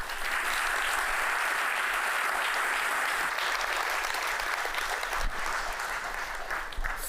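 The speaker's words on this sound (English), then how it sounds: "So please give her a warm applause." A steady wash of lecture audience applause, many hands clapping continuously at a moderate level for several seconds, with a few louder claps near the end.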